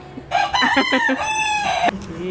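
A rooster crows once, loud and close, a rising then sustained cock-a-doodle call that cuts off sharply.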